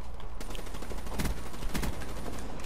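Rapid bursts of automatic gunfire and scattered shots crackle through a dense, noisy Battlefield 1 battle, with several louder volleys standing out over continuous combat din.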